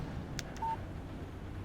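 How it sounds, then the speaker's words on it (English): A short electronic phone alert tone for an incoming text message in the video game Alan Wake, a single clear beep preceded by two faint clicks over a low ambient hum. "Text message from Barry"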